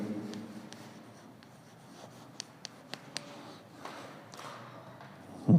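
A teacher writes on a board in a classroom, with faint scratchy strokes and a few light taps of the writing tool, quiet and close, ending with a louder knock.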